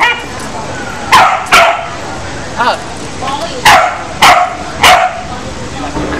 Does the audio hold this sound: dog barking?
yes